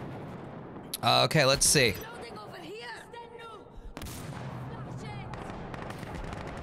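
A short loud cluster of burst-fire gunshots from a rifle in Insurgency Sandstorm cracks up close, followed by mechanical clatter, softer distant shots and someone talking.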